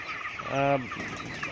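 A rooster of a classic breeder line on a poultry farm with rice-husk litter gives a single short, tonal cluck in the middle of a brief stretch of soft barn background noise.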